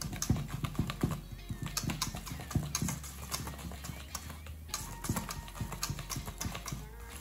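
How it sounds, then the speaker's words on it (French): Mascarpone cream is beaten by hand with a whisk in a bowl for a tiramisu tart, giving quick, irregular clicking and tapping strokes that continue close up for several seconds without speech. "Puis je continue de mélanger au fouet pour avoir quelque chose de bien homogène."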